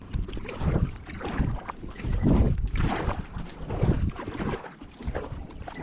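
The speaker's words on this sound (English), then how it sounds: "Just had a boat with a skier go by." A motorboat towing a water skier rumbles past nearby on a lake, heard from a kayak, mixed with wind buffeting the microphone and water noise, rising and falling as it goes by.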